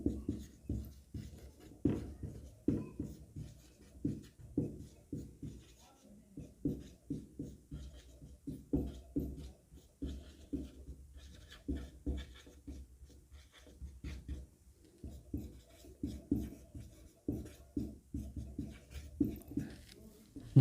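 Writing on a board during a math lesson on LCM, heard as close, rapid, irregular tapping and scratching strokes that continue in short clusters with small pauses.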